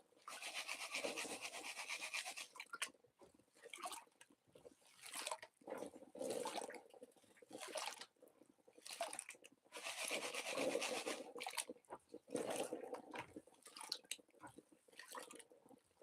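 Water dripping off a table in a steady, irregular patter of drips and splashes, mixed with rubbing and rasping noises, quiet and continuous with no voices.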